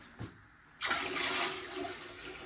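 A toilet flushes after a brief clunk of the handle, rushing water surging up loud and close and holding steady as the bowl drains.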